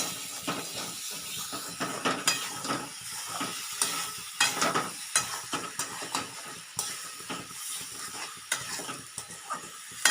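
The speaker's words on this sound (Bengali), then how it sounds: "ডিমগুলো দিয়ে মশলার সাথে কষিয়ে নেব।" Eggs stir-fried in a pan with cooked-down spice masala for an egg curry: steady close sizzling and hiss, broken by repeated scraping stirs of a spatula against the pan, with no talking.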